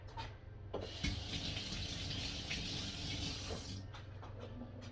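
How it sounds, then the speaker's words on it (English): Hands washed under a running kitchen tap, a steady close hiss of flowing water for about three seconds that starts and stops, fairly quiet, with no talking. "Let me wash my hands real quick."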